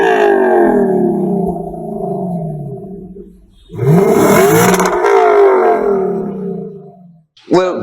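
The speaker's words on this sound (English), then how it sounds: "the exhaust notes of that car, to me, is what stands out, because it sounds different" A naturally aspirated 5-liter V8 sports car exhaust revs loudly in two long surges separated by a brief dip, with a rising, roaring engine note that drops back and a sharp blip at the end.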